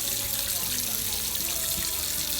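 A tap runs in a continuous steady stream for rinsing dyed wool, a close, even rush of water with no other sounds.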